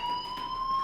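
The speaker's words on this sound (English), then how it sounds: "do you hear that fire alarm? That means you should be outside." Fire alarm ringing in the video game Life Is Strange, a steady high electronic tone held without a break and fairly loud, with no voices over it.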